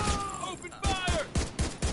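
Rapid bursts of gunfire in the shooter video game The Division 2, a string of loud sharp shots in quick rhythm over a busy combat soundscape with a brief voice mixed in.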